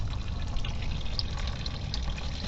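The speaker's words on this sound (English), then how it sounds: "There's some drip there" Water drips and trickles from the radiator of a 2003 Subaru Forester, the coolant being plain water, a steady close wet patter with no talk.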